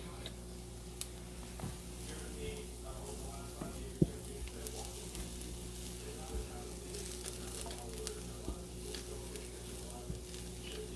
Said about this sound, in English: I put me some coconut in a dry pan, and I am stirring constantly to toast it